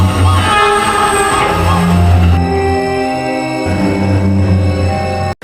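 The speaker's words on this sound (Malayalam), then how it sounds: "നമ്മുടെ നാട്ടിലെ തോമസ് ട്രെയിൻ വന്നിരിക്കുകയാണ് അതും ട്രെയിൻ അല്ല മോൺസ്റ്റർ ട്രെയിൻ" The monster Thomas train in the mobile game Indian Bike Driving 3D gives a loud, sustained rumble under a steady blaring horn, with the pitch shifting partway through before the sound cuts off abruptly.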